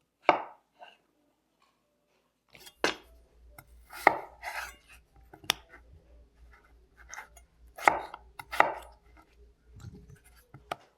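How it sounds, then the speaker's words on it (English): A knife chops food into big chunks for a curry beef stew, giving scattered crisp cuts against a board, some in quick pairs, set against quiet pauses. "I'm gonna cut them in half. Half again. Half again, just like that. Nice big chunks."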